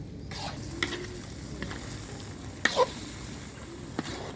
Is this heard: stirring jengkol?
yes